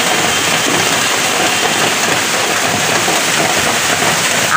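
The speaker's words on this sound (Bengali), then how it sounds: "এই 15-20 মিনিট হলো বৃষ্টিও দেখো খালি।" Heavy morning rain pours down in a steady, dense roar, loud and continuous with no pauses and no voices over it.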